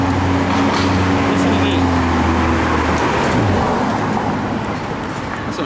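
A car passes on the road with a steady engine and tyre rumble that builds and fades, loud and near, while someone speaks over it.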